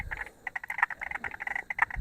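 A male banjo frog, also called the great bullfrog and Victoria's largest frog, gives a run of short repeated calls at night, a steady pulsing series of plunks close by, with faint low rustling beneath.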